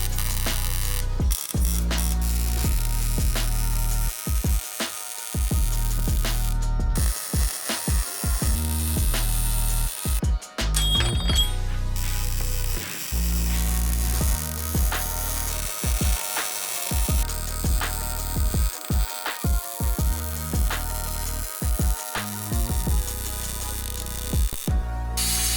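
Tack welding on a steel trailer tongue extension for an offroad trailer, with steady crackling arc noise broken by short pauses between welds, loud and close with no talk.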